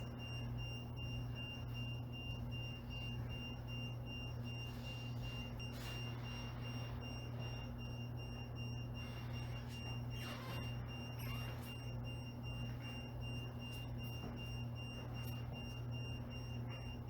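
Inside an old hotel in Longview, Alberta, an electronic ghost-hunting device gives off steady, continuous sound over a low constant hum. Sharp, brief chirps break in every few seconds, and no one speaks.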